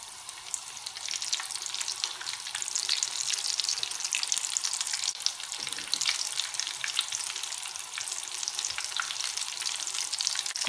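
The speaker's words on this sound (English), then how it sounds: "I will now turn the potato cutlet over to the other side" Potato cutlets (aloo tikki) fry in hot oil, giving a steady, close sizzle with crackling pops that runs unbroken throughout, no talking.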